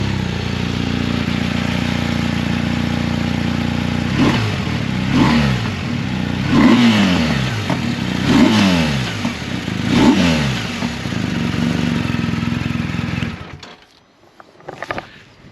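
A 2023 BMW R 1250 RT LE engine with stock chrome exhaust idles steadily, then revs up sharply four or five times in a row with quick blips, before cutting off near the end.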